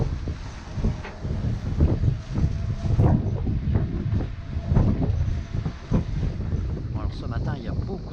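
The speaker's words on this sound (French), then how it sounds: "ce matin, il y a beaucoup de vent, Mistral" Strong Mistral wind at sea with a heavy beam swell buffets the microphone aboard a sailboat in a steady, gusting low roar, loud and close, with muffled voices surfacing briefly.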